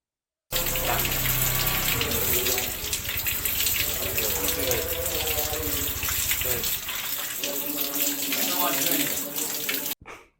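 Water runs steadily from a faucet, a continuous close splashing stream that shifts in tone as it fills or hits something, then stops abruptly.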